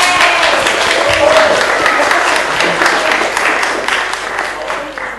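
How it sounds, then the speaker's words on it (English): Sustained applause from an audience at a military kids recognition ceremony in Richmond, NSW, honoring children; dense, steady clapping fills the whole stretch, with some voices mixed in, tapering slightly toward the end. "we're all going to give you a round of applause"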